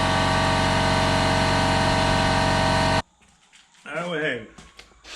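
Steady, loud mechanical drone of a pump running to inflate a tire mounted by hand on a rim, cutting off abruptly after three seconds, followed by someone speaking over quiet background.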